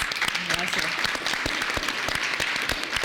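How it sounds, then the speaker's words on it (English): A conference panel audience claps in a sustained burst of applause, with dense overlapping handclaps and some voices mixed in underneath. "Let's give Daniella a round of applause, please."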